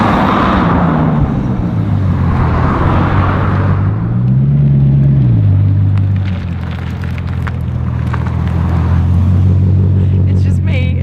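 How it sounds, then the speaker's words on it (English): A powerful Bugatti Chiron Sport engine roars and rises and falls in pitch as it accelerates, with a whooshing turbo whine, while a person speaks over it. "when you're driving it and you hear the turbos"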